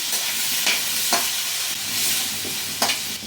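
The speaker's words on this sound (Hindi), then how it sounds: "कढ़ाई में तेल को फैला दीजिए और अब हम इसमें ऐड करते हैं अपने कटे हुए आलू" Cut potatoes coated with turmeric stirred in hot oil in a kadai, a close, continuous sizzle broken by a few scraping sweeps of the spoon.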